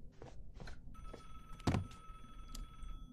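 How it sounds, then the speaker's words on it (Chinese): A short telephone ring in the horror game Never Again: a bright electronic tone sustains through a quiet room, alongside a sharp thunk and faint shuffling. "电话响了"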